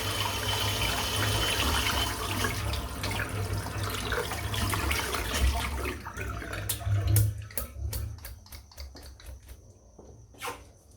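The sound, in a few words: water rinsing out a shaving brush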